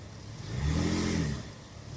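A vehicle engine on an off-road trail at a wildlife management area, held lightly on the brake and then reversing, gives a steady mid-pitched hum that swells in the middle and settles again, with no talk over it.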